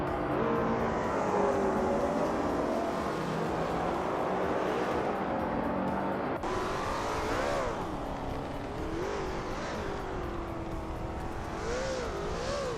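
Race cars in a racing video game, a steady drone of engines with rising and falling whines as cars pass and accelerate, continuous and fairly loud, with no talk.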